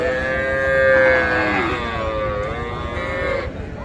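A young bull or heifer calf at the Aftabganj cattle market in Dinajpur lets out one loud, drawn-out moo, wavering in pitch, over the dull hum of the crowded livestock market.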